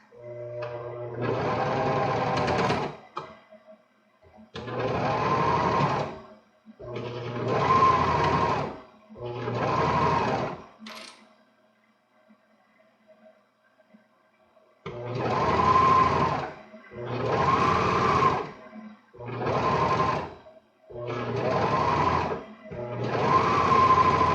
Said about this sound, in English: I like to sew this with the presser foot on the inside of the sock